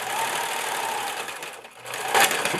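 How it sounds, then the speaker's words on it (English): A sewing machine runs steadily, stitching down a seam along a ribbon on a dress to repair a frayed, stressed seam, with a continuous whirring buzz, a brief slowdown near the end, then a final burst. "I'm just going to sew all the way down, and then when I get to the end of the ribbon"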